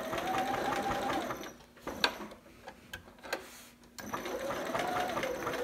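A sewing machine runs in two bursts of fast, even stitching through fabric for a romper, with a pause between them filled by quiet clicks and handling of the machine.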